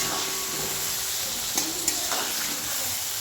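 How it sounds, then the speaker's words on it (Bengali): Eggplant and potatoes frying in leftover fish-frying oil produce a steady hissing sizzle with a couple of faint clinks of stirring, no voices. "মাছ ভাজা তেলের মধ্যে বেগুন আলু সব কিছু দিয়ে দিলাম।"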